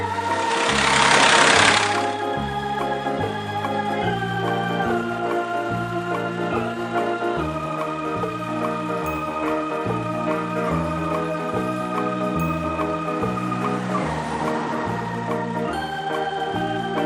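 Compactor truck in a kids' video game driving across a pile, a steady chugging, rhythmically pulsing engine loop with a brief hissing burst at the start and another near the end, no talking.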